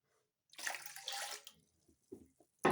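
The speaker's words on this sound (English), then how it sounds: "So I'm going to add 2 cups of water." Two cups of water poured into a cooking pot for porridge, a rushing pour lasting about a second, followed by a few soft knocks and a louder clunk at the end.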